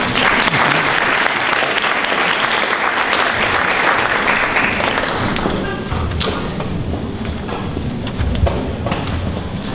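Full, dense applause from an audience at a formal lecture event in Puerto Rico, steady and loud, then thinning into scattered claps with a few thumps as it tapers off.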